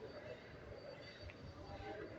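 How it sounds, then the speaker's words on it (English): Inside a large moving train, a steady low rumble of wheels and carriage noise fills the space, faint and continuous throughout. "On a very big train"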